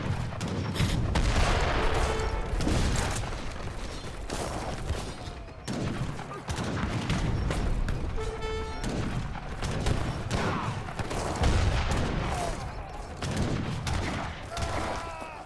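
Bombard artillery fires during an Age of Empires III treaty match, with repeated heavy booms and thumps over a dense, continuous battle din of gunfire and explosions, loud throughout with faint talk beneath.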